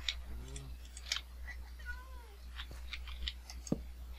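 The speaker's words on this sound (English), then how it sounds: "I can hear the cat walking around me" A cat in a Minecraft StoneBlock modpack, heard in the game as soft meows and chirpy little cat calls mixed with faint ticking footstep sounds, under a low steady hum, with someone talking over them.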